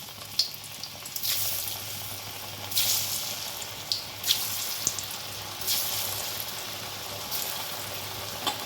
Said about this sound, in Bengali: এবার কাঁচকলার কোপ্তাগুলো আমি ভেজে নেব।